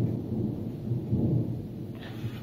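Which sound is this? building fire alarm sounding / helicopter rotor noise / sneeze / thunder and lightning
thunder and lightning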